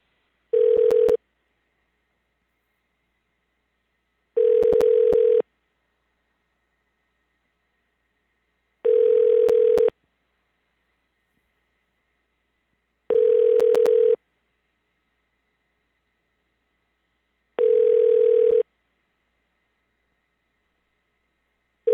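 A telephone line tone during a call transfer: five identical steady beeps about a second long, spaced roughly four seconds apart, clear and alone with silence between.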